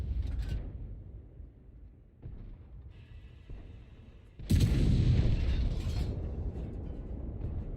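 A tank gun fires in World of Tanks, a sudden loud blast at mid-clip with a sharp broadband burst that rolls into sustained rumbling, following quieter mechanical clanks and a brief tonal whine.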